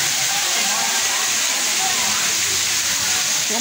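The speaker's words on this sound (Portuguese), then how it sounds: "Tem uma cascata aqui, super joia aqui, ó." Water cascades steadily at a bathing resort in Manaus, a dense, continuous roaring wash that fills the whole stretch, close and loud, with no break or change.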